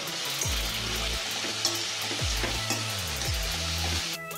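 Tomato pieces drop into onions frying in a pan for a lady's finger pulusu, raising a steady loud sizzle with a few soft stirring scrapes, no talk.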